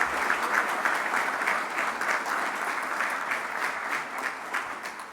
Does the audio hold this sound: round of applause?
yes